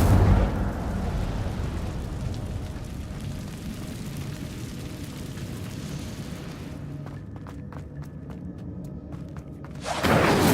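The Incendio fire spell in Hogwarts Legacy, cast inside a cave: a sustained roaring, crackling burst of flame that holds steady for several seconds, thins out near the end, then flares up loudly again.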